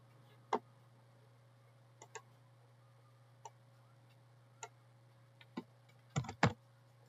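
Sparse keystrokes on a computer keyboard while working in MS Publisher, quiet isolated taps spread out with a short cluster of quick presses near the end, over a steady low hum.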